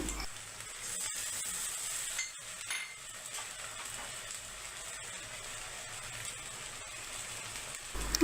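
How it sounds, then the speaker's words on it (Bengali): Ground spice paste of ginger-garlic, cumin and garam masala fries in a pan with dried and green chillies for atta dal. A soft, steady sizzle runs under occasional faint clinks and stirring scrapes, quiet and without speech. "সেগুলো দিয়ে নাড়াচাড়া করে মশলাগুলো কষিয়ে নেব"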